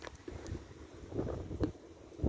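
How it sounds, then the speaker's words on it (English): Gusty wind blows outdoors around an HVAC condenser unit, buffeting the microphone in uneven low rumbles and puffs over a couple of seconds. "it's pretty windy today, so it's gonna be blowing the blades"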